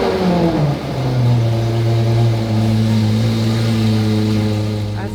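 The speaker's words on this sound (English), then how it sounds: "Alright, time for the notorious cold start." A limited edition SUV engine cold-starting, roaring loud and close with a steady high idle and a deep droning hum that holds throughout.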